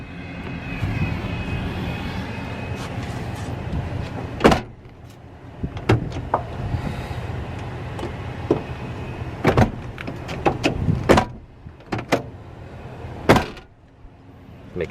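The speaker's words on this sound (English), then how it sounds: "Showing you how the wheelchair lift works here." Wheelchair lift on a 2014 Ford Econoline raised-roof conversion van running, with a steady motor whir broken by repeated metallic clunks and clicks.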